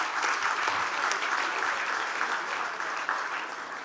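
An audience at a book prize ceremony claps in sustained, even applause, a thick wash of many hands filling the room without pause.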